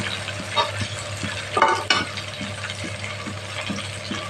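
Ground spices stirred and frying in a pan for a potato and prawn curry: a soft sizzle under rhythmic scraping stir strokes, with a louder burst of stirring midway and no talk.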